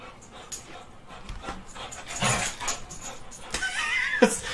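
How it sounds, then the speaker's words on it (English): A dog whimpering and panting while tugging on a toy held by a person, with soft whines and a brief higher yelp near the end, close by amid light shuffling. "the dog is attacking my... his toy that I am holding. We're playing Tug of War"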